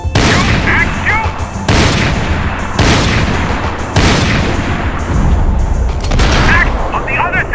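Heavy gunfire in the third-person shooter Max Payne 3, loud and sustained with repeated sharp bursts over a dense rumbling background, while a few voices shout now and then.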